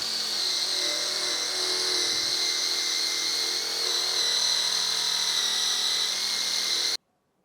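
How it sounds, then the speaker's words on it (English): A bare buffing wheel spinning against guitar frets to clear off polishing compound, a steady high whirring hum with faint rubbing changes, close and continuous before stopping abruptly. "I just go over with a sort of a buffing wheel with nothing on it and just sort of buff all of the remaining compound off there"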